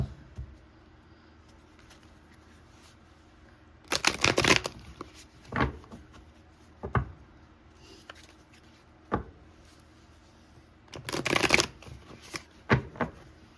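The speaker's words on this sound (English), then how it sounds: "we're going to go ahead and pull some tarot cards." Tarot cards shuffled in two loud riffling bursts, each followed by a few sharp single card snaps and taps, with quiet pauses in between and no talking.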